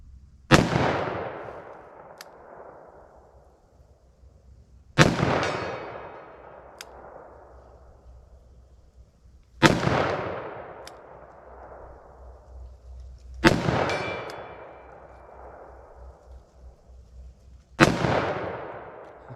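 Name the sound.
357 Magnum revolver shots with Blazer Brass ammo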